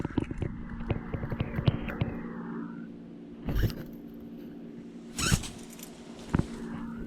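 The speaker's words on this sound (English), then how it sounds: "so he's chewing" A horse named as a new mount chews after a groundwork workout, giving soft, close, irregular crunching and clicking bites with a few louder knocks and rustles, and no talk.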